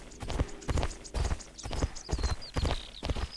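Horse hooves in a video game, a steady rapid clip-clop of galloping footfalls with a brief faint whinny, fairly close and mostly alone.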